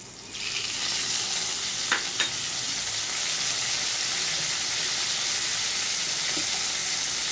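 Shrimp drop into a hot pan with fried jackfruit seeds, setting off a steady, broad sizzle that holds throughout, with a couple of brief clinks from stirring.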